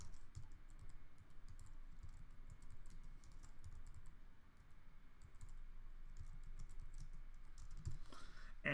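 A password is typed on a computer keyboard, a quick run of faint, close, irregular key clicks over a quiet background.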